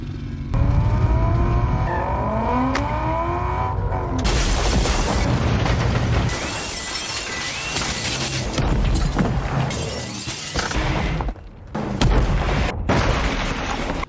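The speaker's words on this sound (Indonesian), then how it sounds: "Lino dengan Quintin memiliki sebuah rencana untuk menjebol tembok beton dengan mobil miliknya yang telah dimodifikasi" A modified car revs and races loudly toward a concrete wall, then smashes into it with heavy booming crashes and shattering debris in an action film scene, followed by rumbling impacts and brief lulls.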